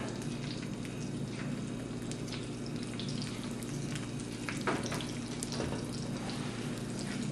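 An egg fries in a modified Lodge cast iron mini skillet, a steady close sizzle and crackle running throughout with occasional small pops, no voices.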